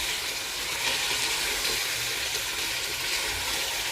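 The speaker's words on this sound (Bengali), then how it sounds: "এখন চিকেনটা দিয়ে দিই, ভালো করে মশলার সাথে মেশাবো।" Chicken pieces go into oil-glossed masala in a hot pan and are stirred in, producing a loud, continuous sizzle and hiss that stays steady throughout without any talking.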